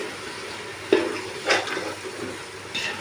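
Chicken biryani masala being stirred in separated oil, a soft sizzle punctuated by a few sharp scrapes and clinks of a spoon against the pot, close and alone.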